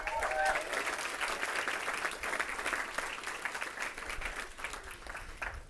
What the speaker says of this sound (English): Please, a round of applause for Rachel.